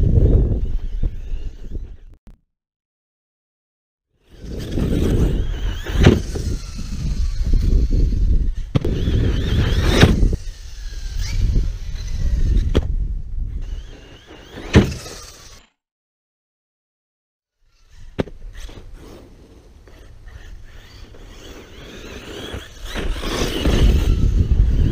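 An Arrma Kraton V4 6s RC car launches in repeated bursts of loud, rough motor whine and tire scrabble, each run separated by silent gaps, with sharp impacts and no talk.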